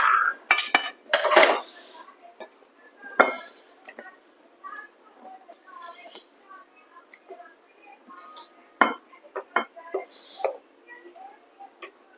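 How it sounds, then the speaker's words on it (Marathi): Egg masala being scooped from a pan into a bowl in a home kitchen, with sharp metallic clinks and scrapes of a spoon against cookware, irregular and close, with quiet gaps between. "अंडा मसाला आपला तयार झालेला आहे तर बाउलमध्ये काढून घेऊया"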